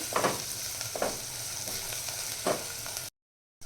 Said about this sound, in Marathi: मसाले टाकल्यानंतर मिक्स करून घ्यायचं छान पूर्ण मसाले आपल्या या फोडणीमध्ये छान मिक्स करून घेऊया